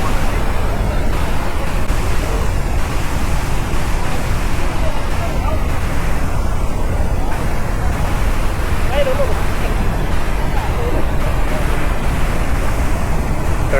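Water at Hogenakkal falls splashes and rushes steadily around a coracle ride on the river, with a loud broadband roar and faint voices mixed in.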